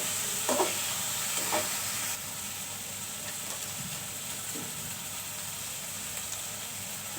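Ingredients fry quietly in oil for lentils with jute leaves, a soft steady sizzle with a couple of faint knocks early on, fairly low in level.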